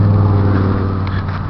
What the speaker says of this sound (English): I'm going to peel out